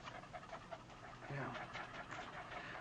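A dog pants steadily in a veterinarian's office, a close, continuous breathy rhythm with no other voices over it.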